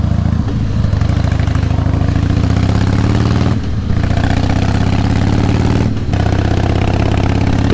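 Harley-Davidson Heritage Softail Classic motorcycle engine idling, a loud, close, steady low-pitched V-twin lope with a couple of brief dips, running alone without talk.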